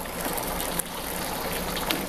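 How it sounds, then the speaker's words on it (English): Steady wet sloshing and swirling as a brewing mash of grain is stirred vigorously. Continuous, close and fairly loud, with no talking. "give my mash a good disruptive stir"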